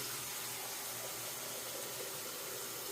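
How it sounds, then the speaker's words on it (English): Hot water runs steadily from a tap into a sink while shaving lather is being prepared, a faint, even hiss of flowing water with no talk. "I'm going to run a little bit of hot water here"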